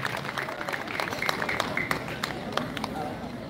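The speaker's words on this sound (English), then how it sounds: "Can we give a big hand clap?" A crowd of students at a school festival closing ceremony claps for Koboko Parents Secondary School, a continuous rustling roar of hands with a voice over a loudspeaker talking across it.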